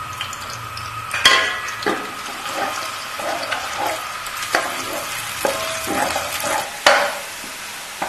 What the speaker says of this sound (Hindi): 4 चम्मच ऑयल डालूंगी और प्याज गोल्डन होने तक